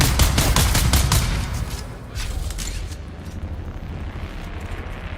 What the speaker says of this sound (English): there is a machine gunner guy somewhere in here